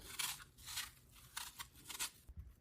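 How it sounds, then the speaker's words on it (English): Vegetable peeler scraping the skin off an apple, a series of short rasping strokes repeating in an uneven rhythm, close and fairly quiet with no voices. "use the vegetable peeler versus using a knife to get the skin off the apple"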